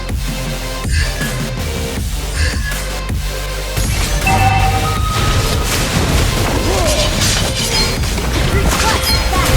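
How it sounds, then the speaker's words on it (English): In the Mobile Legends mobile game, an enemy turret is destroyed with heavy booming crashes and shattering impacts layered over loud background music and game effects. "Your team destroyed the turret"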